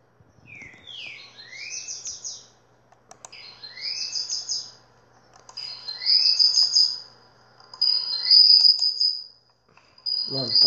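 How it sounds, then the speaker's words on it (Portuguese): Small bird chirping in repeated bursts of high, sweeping tweets, close and fairly loud, with short silent gaps between calls and a faint low hum underneath. "Mano, passarinho desgraçado."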